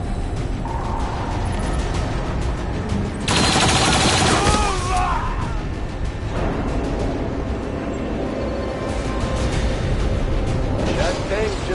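Heavy gunfire in the video game XCOM: a dense, sustained fusillade of shots rolling through the whole stretch, loudest in a sharp burst near the middle, with busy battle noise and chirping effects layered over it.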